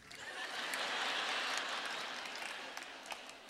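A comedy club audience claps in a dense, sustained burst that swells and slowly fades, heard from within the room with no talking over it.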